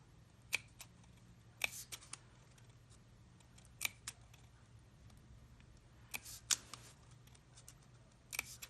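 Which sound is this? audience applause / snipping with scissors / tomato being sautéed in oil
snipping with scissors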